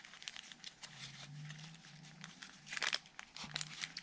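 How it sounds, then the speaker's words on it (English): A small journal slides out of an altered paper file-folder folio trimmed with lace, giving soft crinkly, crunchy paper rustles in short bursts, quiet and close. "Out slides this little journal, complete with that lovely crunchy sound."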